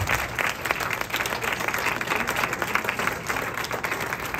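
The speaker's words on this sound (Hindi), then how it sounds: "हमारे साथ आज जिन्होंने बजाया उनके लिए एक बार और तालियां।" An audience applauds the accompanying musicians at a Kathak dance event, steady and fairly loud clapping that holds throughout without speech.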